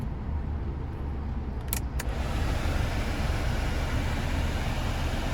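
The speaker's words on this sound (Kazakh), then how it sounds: "Жақшы мұздатып отады, іштейді екен кондиционер." Air conditioner of a 2018 Hyundai Solaris 1.6 automatic blowing steadily inside the car cabin, a constant broadband whoosh with a low rumble, with a brief faint clicking near the middle and no talking.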